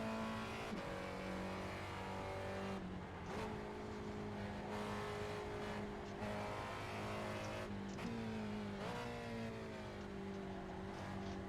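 A Spec Racer Ford race car in the iRacing simulator at Oulton Park drones steadily, with sharp throttle blips on each of several downshifts followed by rising engine tones through the gears.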